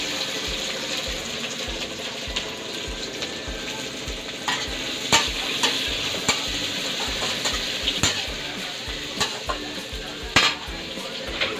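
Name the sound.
onion frying in hot oil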